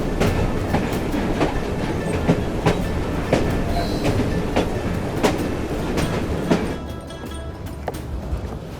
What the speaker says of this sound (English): at least we have a train now